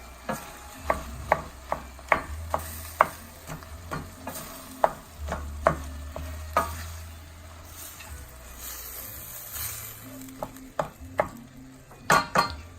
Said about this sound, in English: we're going to add our onions, our chopped onions. And remember to stir it during this process